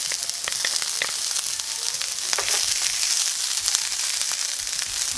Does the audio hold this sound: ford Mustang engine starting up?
no